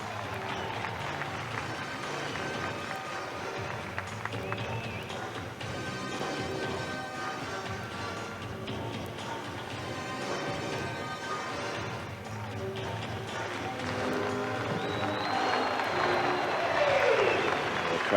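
At a freestyle skateboarding contest, a crowd breaks into applause and cheering that swells toward the end, with a commentator talking and the clatter of skateboard wheels.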